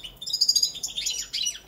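A Balkan goldfinch (Carduelis carduelis balcanica) sings a song containing a fault. The clear, high twittering phrases are close and alone, rising and falling rapidly over less than two seconds.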